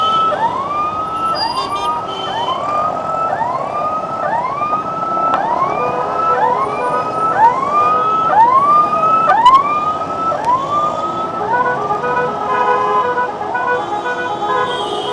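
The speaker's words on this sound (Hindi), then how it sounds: "देख सकते हैं एक एम्बुलेंस भी इस जाम में फंस गई है" Ambulance stuck in a traffic jam at a busy city crossroads, its siren wailing loudly in repeated rising sweeps for the whole stretch over a constant hum of traffic and occasional horn toots.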